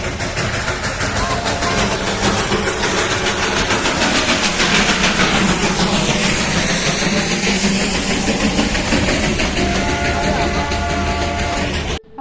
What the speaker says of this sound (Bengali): ওই যে নিচে আমাদের ট্রেনটা কিন্তু চলে এসছে, এবারে ওটা আস্তে আস্তে ওপর দিকে উঠে এই স্টেশনের কাছে চলে আসবে